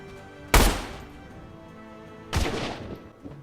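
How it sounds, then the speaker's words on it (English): Two loud, sharp gunshots ring out about two seconds apart in the dinosaur-horde shooter Orion: Dino Horde, each with a short echoing tail over a quiet in-game background. "The gunshots are very loud compared to the rest of the game."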